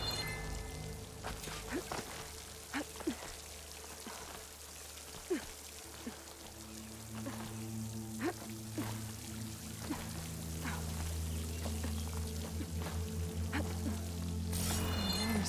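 Water pours and flows in a video game as a continuous, moderately loud rushing wash, dotted with scattered drips and splashes and a rising low hum over about fifteen seconds, with no one talking.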